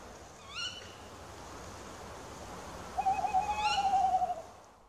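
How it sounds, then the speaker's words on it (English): Two tawny owls calling to each other with the twit-to-woo call: a sharp kewick early on, then a longer wavering hoot, both clear over a soft steady background hiss. "it's that twit-to-woo call, and in fact, two owls talking to each other."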